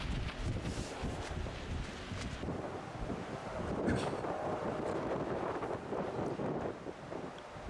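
Strong wind buffets the microphone at a disc golf course during a tournament round in Wyoming, a steady roaring rush with gusts swelling midway, loud and without speech.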